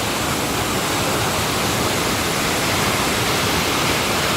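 A waterfall in Antalya, Turkey roars as a loud, dense, unbroken rush of falling water, filling the sound completely and steadily from nearby with no voices.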